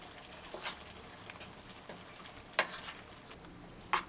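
Vegetables being mixed with sugar and water in a bowl, a soft wet stirring texture with a few sharp clinks of a spoon against the container, fairly quiet and without talk.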